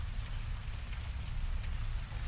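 Steady heavy rain pours down during a storm with a constant hiss and low rumble, dense and continuous throughout, no voices.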